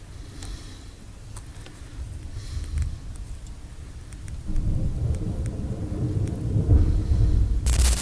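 Thunderstorm recorded from an upstairs window, a steady wash of rain with deep rumbling thunder swelling louder midway and a sharp crack near the end, no voices.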